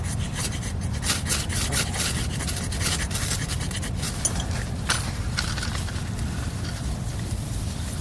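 Steady rough scraping while magnesium shavings are worked onto tinder for a snow-camp fire, close and continuous with sharp clicks and scratches over a rumbling outdoor background, no one speaking.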